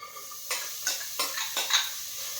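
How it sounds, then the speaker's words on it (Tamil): Chopped onion dry-sautéed without oil in a pressure cooker, with a spoon scraping and clanking against the metal pot in four or five distinct strokes over a light sizzle, close and alone. "இந்த குக்கரில் வந்து நம்ம கட் பண்ணி வச்சுருந்தே வெங்காயத்தை சேர்த்து வதக்கலாம்"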